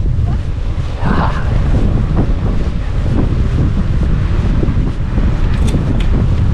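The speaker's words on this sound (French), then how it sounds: "Oh, petit vent, dis donc." Wind blows hard across a microphone outdoors in the Drôme Provençale, producing a loud, continuous low rumble with ragged gusts throughout.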